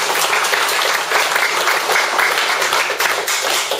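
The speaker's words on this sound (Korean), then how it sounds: "박수만 크게 한번 쳐보겠습니다." Loud, dense applause from a large crowd, steady and sustained from start to finish.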